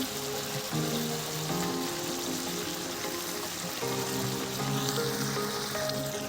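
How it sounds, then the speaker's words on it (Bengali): Water poured into a pot of chicken and potato curry that has been sizzling in oil, producing a continuous, fairly soft bubbling hiss and splashing with no speech. "এবারে দিয়ে দেবো পরিমাণ মতো জল"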